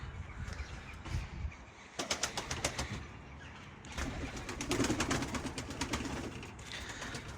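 Loft pigeons coo and shuffle on a windy day, with low murmuring calls and bursts of wing flapping close by over a constant wind rush.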